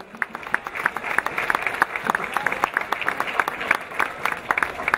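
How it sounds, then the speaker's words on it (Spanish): Crowd applause for a municipal president at a September 16 parade ceremony in Tepalcingo, brisk individual claps rising into steady clapping that continues throughout. "Un fuerte aplauso, por favor."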